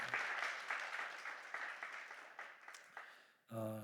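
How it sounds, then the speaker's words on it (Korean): A church congregation claps to welcome a new member at a Sunday worship service, a sustained round of applause that tapers off before a louder sound cuts in at the end. "일어나실 때 우리 박수로 환영하겠습니다"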